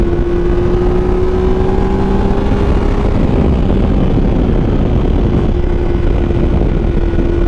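A Triumph Tiger 800 three-cylinder adventure bike with a Yoshimura exhaust, heard up close while riding as a loud, steady engine drone with a rising and falling pitch and rushing wind noise throughout.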